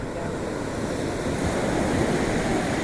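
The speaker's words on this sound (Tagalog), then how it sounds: "Meron siyang alon, maalon." Ocean surf rolls continuously onto the beach at San Juan, La Union on a morning with choppy waves, a dense steady wash with some wind noise on the microphone.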